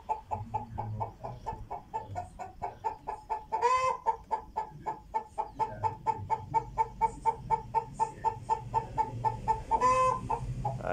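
A rooster in a chicken coop calls out in a long run of rhythmic, closely spaced clucking pulses, fairly near and building in loudness, with a few louder calls standing out.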